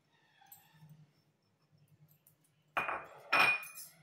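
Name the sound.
spoon mixing boiled corn with salt and coriander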